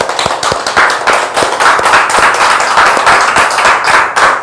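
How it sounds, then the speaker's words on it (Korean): Audience clapping at a laughter-method lecture in a hall, a fairly loud round of many hands with some sharp distinct claps standing out, steady throughout without speech. "박수 한번 치겠습니다."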